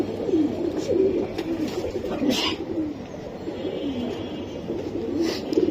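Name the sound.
pigeons cooing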